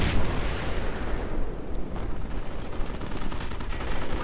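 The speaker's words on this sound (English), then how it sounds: "50 caliber and 37mm gun. Really tearing through those poor unfortunate lads." Dense, continuous gunfire and explosive blasts from .50 caliber machine guns and a 37mm gun tearing through German Panzer infantry in a WWII strategy video game, loud and relentless throughout with no pauses.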